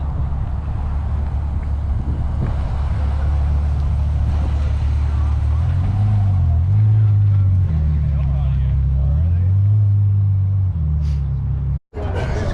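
Ferrari at a cars and coffee meet, a deep rumbling engine idling and revving with rising and falling pitch, loud and close, with people talking in the background.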